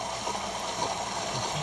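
Water from a home water heater drains through a hose in a steady, close flow, a continuous rushing hiss with faint gurgling and no talk.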